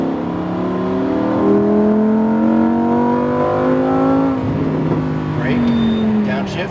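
A Lamborghini Huracan speeds up on a race track, its engine note rising steadily in pitch, close and loud, then dipping with a gear change before climbing again, while a voice talks over it.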